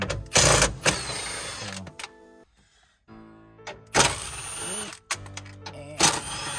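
Bolts being loosened from a module on an R34 Nissan Skyline, with bursts of mechanical whirring and clicking from a tool, loud and close, separated by short pauses and light handling noise.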